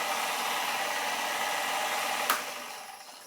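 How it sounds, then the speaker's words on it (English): Citroen DS hydraulic system building pressure on a test rig for a 5-speed half-automatic gearbox: a steady, moderately loud hiss and whir that runs unbroken, then a sharp click near the end as the sound begins to fade away. "Building up some pressure."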